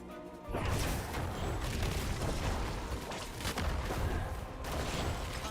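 A large explosion in the action RPG Diablo 4, cast by a Bone Spirit Necromancer, bursts in after a short quiet lead-in and rolls on as a dense, loud, sustained roar of blasts and crashing debris with no talk over it.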